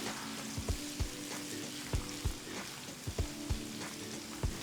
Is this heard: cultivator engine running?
no